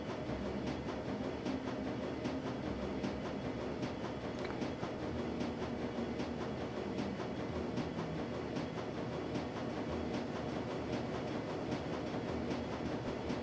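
Train ride ambience from the Shadowrun: Dragonfall game, a steady low rumble of a moving train with regular clickety-clack from the wheels over rail joints, even and continuous with no talk.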